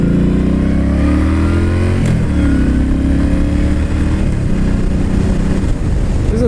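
A 2012 Yamaha Stryker factory chopper motorcycle revs and accelerates on a ride, its steady mid-low engine drone rising in pitch with a shift around two seconds, loud and close throughout with wind noise.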